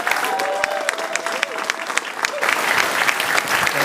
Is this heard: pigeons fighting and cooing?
no